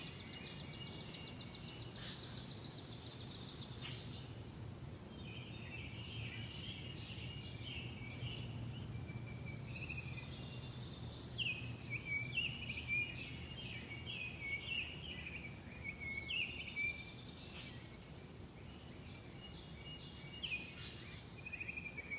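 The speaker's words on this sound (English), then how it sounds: "So just noticing the sounds of the birds" Faint birdsong drifts in from a distance, scattered chirps and short calls repeating over a quiet, steady outdoor hiss.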